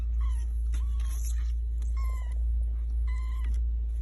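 Several young kittens mew in short, high, repeated calls, a few bursts spaced across a few seconds over a steady low background hum.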